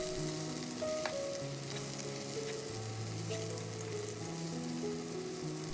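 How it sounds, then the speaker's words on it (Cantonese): Pork ribs stir-fried over high heat in a pot to cook off their moisture give a strong, constant sizzle and crackle with occasional stirring knocks, under soft background music. "轉大火炒2炒，"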